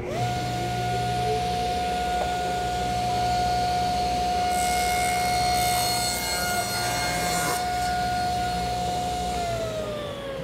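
A saw rips a glued-up wooden panel to width, a loud, steady whining cut that holds for about nine seconds before the blade spins down, with a brief higher scrape midway.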